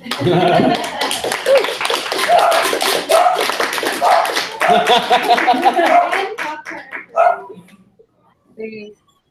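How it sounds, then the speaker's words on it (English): An audience claps on request, sustained clapping mixed with talk and dogs barking nearby, then tapering off into scattered sounds and near silence. "Everybody clap."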